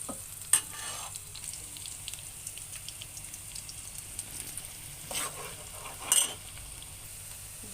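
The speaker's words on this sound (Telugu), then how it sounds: "ఈ ఉల్లిపాయలు ఇంత మగ్గిద్దాం" Onions softening in a pan for a pond-fish curry give off a faint, steady sizzle, with a few soft scrapes from a stirring spoon and no talking.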